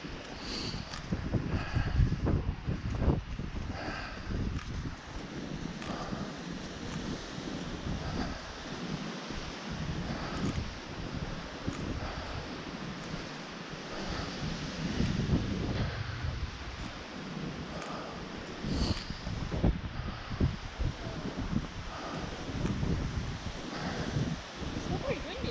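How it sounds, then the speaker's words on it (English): Strong wind gusting and roaring across the microphone, a continuous rushing noise that swells and eases over time. "It's still pretty windy."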